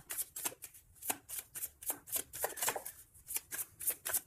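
Tarot cards are shuffled close up during a reading, giving a quick irregular series of crisp riffling and slapping bursts, with no talk over them.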